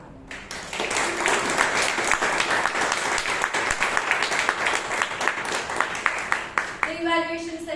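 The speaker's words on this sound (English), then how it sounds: "Let's give a big round of applause to our general evaluator for today, Toastmaster Vijay Anand." A Toastmasters club audience at a meeting gives a round of applause, thick continuous clapping that starts quickly and holds steady before thinning out, with a voice speaking at the very end.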